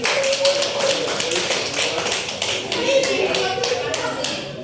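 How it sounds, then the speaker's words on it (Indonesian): Children in an elementary school classroom clap together in a burst of quick, irregular applause lasting several seconds, fairly close and loud, with voices mixed in. "Tepuk tangan untuk kakak"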